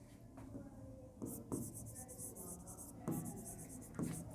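A pen scratches across paper close up as a question is written out by hand in a classroom lesson, in short strokes separated by brief pauses, with faint voices in the background.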